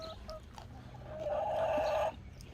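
Backyard homestead chickens cluck and murmur softly at a distance, a few short calls rising into a brief louder squawk, with steady low background noise and no speech.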